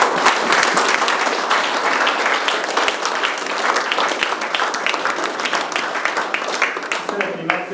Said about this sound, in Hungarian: egy nagy tapsot megérdemel.